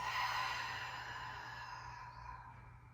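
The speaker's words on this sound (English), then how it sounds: "take one more deep breath in through the nose and exhale out" A slow, steady exhale through the nose during a Pilates session with hand weights, soft and breathy, trailing off gradually over a few seconds with no talking.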